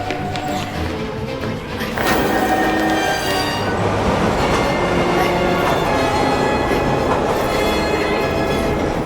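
A subway train roars through a tunnel during a film chase scene, a dense, continuous rumble and rattle of cars on rails that grows louder after a brief lull and stays heavy throughout.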